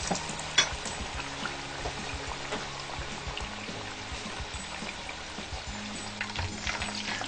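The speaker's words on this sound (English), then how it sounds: "You can see that's just sizzling straight away" Steady, dense crackling sizzle of food frying in hot oil, close and continuous, with a faint low hum beneath and occasional sharper pops.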